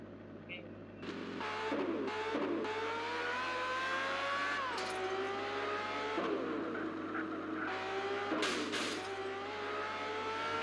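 In an Ultraman video game, a white car drives along with a steady engine drone that rises in pitch as it accelerates, sounding loud and continuous with occasional sharp interruptions.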